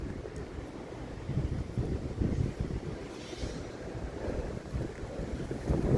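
Wind blowing outdoors on a drizzly day, a rough low rumble buffeting the microphone in uneven gusts, steady and moderately loud, with no talking.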